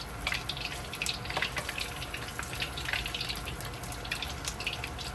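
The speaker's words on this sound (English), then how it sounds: "it's frying beautifully here" Dense, steady crackling and sizzling of fish frying in hot oil, fizzing close up without pause, no voices.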